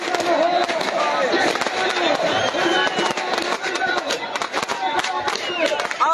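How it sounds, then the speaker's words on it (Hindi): Fireworks going off at a cricket final celebration at Kila Cricket Ground, a dense continuous crackle and bursts mixed with crowd noise and someone talking over it. "आतिशबाजी जारी है जी।"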